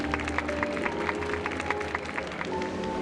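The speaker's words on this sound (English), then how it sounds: "we invite you to express your warmest applause and deepest appreciation for OT Alfalfa" Crowd applause in a video game festival scene in Penacony, heard as scattered claps beneath a steady tonal music bed, moderately quiet and continuous.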